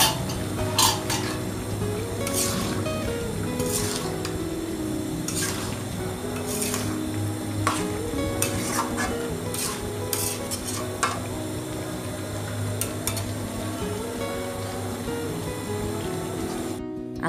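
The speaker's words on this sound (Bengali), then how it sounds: "এখন আলু দিয়ে আরও একটু নেড়ে চেড়ে দিব" A spoon stirs beef curry with potatoes in a pot, scraping and clinking against the metal over a steady sizzle of frying, with repeated close strokes and no talking.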